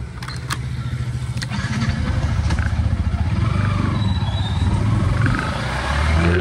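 Motorbike riding through city streets in Vietnam, a steady close engine drone with throttle swells and road noise, faint traffic sounds around it.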